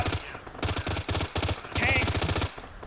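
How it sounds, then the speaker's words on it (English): Burst of automatic gunfire in the military shooter Arma 3, rapid clustered shots in short volleys, loud and close, with brief radio-style talk overlapping in places. "We got a shot coming over our heads."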